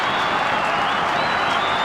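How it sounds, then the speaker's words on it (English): Richmond Tigers fans in a football stadium crowd applaud and cheer after a goal in a 1995 AFL match against West Coast, a dense, continuous wash of clapping and roaring at steady loudness. "So plenty of cheering from Tiger fans"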